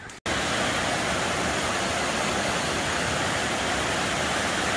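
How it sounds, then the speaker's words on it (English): Lick Log Falls, a waterfall on the Foothills Trail in the South Carolina and North Carolina mountains, roars as a loud, steady, broadband rush of falling water after a split-second gap at the start, with no voices. "I'm thinking this is Lick Log Falls."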